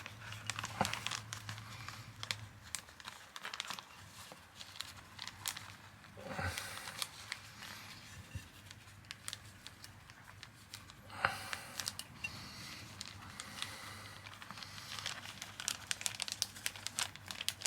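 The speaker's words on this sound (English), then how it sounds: "just put it in your zip bag" A plastic zip bag crinkles and rustles as it is handled at an allotment, soft continuous crackling with small bursts of louder crumpling, close by and fairly quiet, with no talk.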